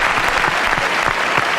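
A studio audience on a French television talk show applauds in a short, dense burst of steady clapping, with no voices over it.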